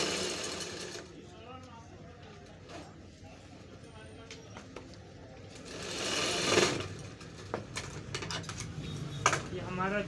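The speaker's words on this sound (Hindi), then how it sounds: "ऐसे सीधा सिलाई लगा" Sewing machine stitching a straight seam along the zip of a pair of trousers, an uneven mechanical clatter that rises in bursts and then fades, with a person talking over it.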